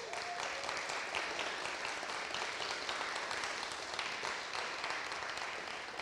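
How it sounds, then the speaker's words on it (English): Church congregation applauding during a Sunday service before a baby dedication, a steady, even wash of clapping from a full room that holds for several seconds at moderate distance, with no voices over it. "Can we have a round of applause?"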